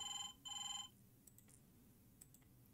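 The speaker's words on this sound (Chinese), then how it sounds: "有那个电话声啊" A phone rings twice in quick electronic bursts, clean and alone, in the cute hamster shop-management mobile game Hamster Mall Story, followed by quiet faint ticks.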